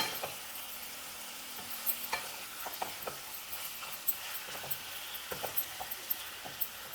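Ginger garlic paste and chicken cook in oil for chicken fry, with a soft, steady sizzle and scattered light clinks of stirring, quiet and close.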